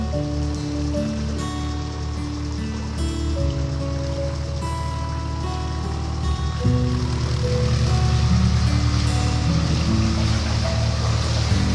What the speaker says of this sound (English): I continue on through the drizzle.